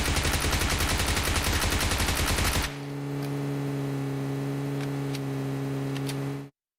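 A long, rapid automatic burst from a rifle in PUBG Mobile, loud and continuous as a whole magazine is emptied, then cutting off into a steady engine-like hum with faint ticks.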